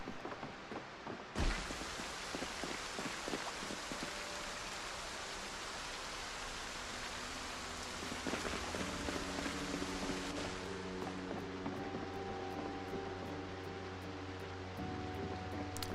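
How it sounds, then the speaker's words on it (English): Steady rain in the Project Zomboid video game, a dense continuous hiss that stays even for the whole stretch, with a soft thump early on and faint tonal game sounds entering later; no speech. "Hope the Amazon order arrives late because it's raining."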